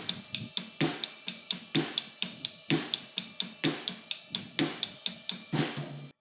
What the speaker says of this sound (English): which is a flam on the snare and then a single hit on the floor tom